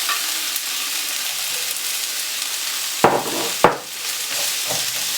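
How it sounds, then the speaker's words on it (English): Chopped vegetables sauteing in olive oil in a pan make a loud, continuous close sizzle, broken by two sharp stirring clatters near the middle, with no talking. "So we're just gonna saute off this roughly about 3 to 4 minutes."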